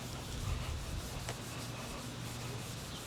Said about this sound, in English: And we are just gonna scrub and scrub and scrub and scrub and scrub and see what happens.